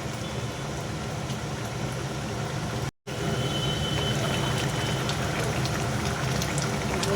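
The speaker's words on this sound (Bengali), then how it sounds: "মাছটা একটু ফুটে যাক ঝোলের সঙ্গে" Thin fish curry broth bubbling in a pot over a high gas flame, a steady close simmering hiss and burble that runs on evenly, broken once by a brief cut of silence.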